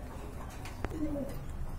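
A single soft, low coo from a Huma pigeon rises briefly over a steady background hum, with no talking.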